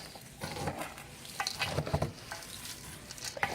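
Granola mixture being stirred by hand, a soft dry rustling and scraping with irregular gentle strokes and light clinks, close and fairly quiet, with no talk over it.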